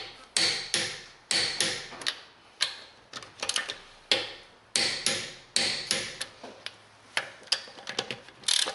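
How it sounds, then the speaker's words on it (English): A torque wrench tightens brake-job bolts to 65 foot-pounds on a 2010 Hyundai Santa Fe, with a string of sharp, close metallic clicks and ratchet snaps in uneven bursts, each one decaying quickly. "You'll hear the click, and that's 65 foot-pounds."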